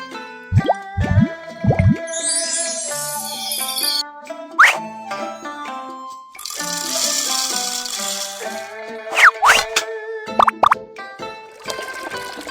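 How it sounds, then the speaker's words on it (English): Cartoon cooking-game sound effects while beans are soaked for tofu: bubbly plops and drips with rattling, tinkling chimes and bright synthetic tones over a continuous cheerful background tune. "Let's soak the beans to make the tofu."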